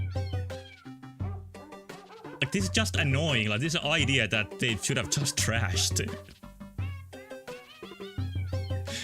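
A cat in the video game Hero of Law meows over and over, loud and insistent, with a nearby voice talking over much of it.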